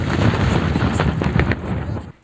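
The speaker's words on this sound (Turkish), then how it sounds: "Azovstal Çelik Fabrikası'nda mayın temizleme çalışmaları sırasında patlama yaşandı" An explosion during mine clearance at the Azovstal steel plant in Mariupol: a loud, deep, sustained rumble broken by several sharp cracks, then cutting off abruptly.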